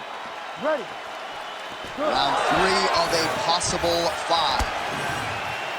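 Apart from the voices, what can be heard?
crowd in video game EA Sports UFC 5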